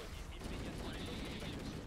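A burst of dense, noisy gunfire-like blasting from Halo: Combat Evolved fills the short stretch at steady loudness, with no clear speech over it.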